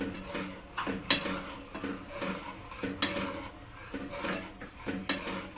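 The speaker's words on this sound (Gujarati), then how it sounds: "એમાં થોડું થોડું નાખતા જઈશું અને મિક્સ કરતા જઈશું" Boiled milk poured bit by bit into a bowl of fruit salad and stirred in, a spoon scraping and clinking against the bowl in repeated strokes, close and steady with no talking.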